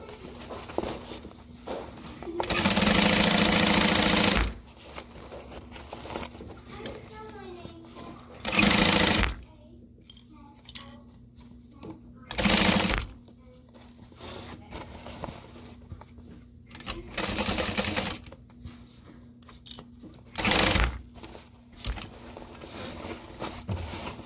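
Sewing machine stitching fabric in several loud, close bursts of rapid mechanical chatter, each a few seconds long, separated by quieter stretches of handling noise and occasional speech.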